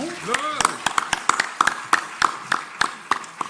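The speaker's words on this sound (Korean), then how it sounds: "뜨거 박수로 환영하겠습니다." Rhythmic clapping from a church congregation welcoming a guest, Dr. Ifeoma from Nigeria, with sharp, even claps about three per second and a voice briefly heard at the start.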